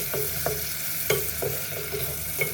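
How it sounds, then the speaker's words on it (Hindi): Onion, ginger and garlic fry in oil for matar pulao, a steady close sizzle punctuated by repeated light scraping stirs and utensil taps, with no one speaking. "ऑयल में ऐड करेंगे हम प्याज, अदरक और लहसुन और इसको हल्का ब्राउन फ्राई करेंगे।"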